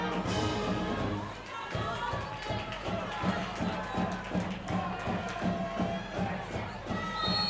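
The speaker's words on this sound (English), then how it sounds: "Crowd is starting to get loud for UCLA" Spectators cheering and shouting at a UCLA versus USC women's water polo game as the score is tied, a loud crowd roar with scattered thuds, under continuous commentary.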